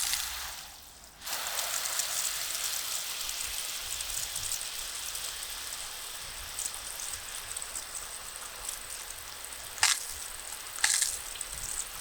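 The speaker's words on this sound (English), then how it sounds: "Let's see what happens when we add a bit of water." Water poured over a hot bonsai pot and soil in summer heat, a steady broad hiss and trickle starting after a brief quiet moment and continuing with a few sharper splashes near the end.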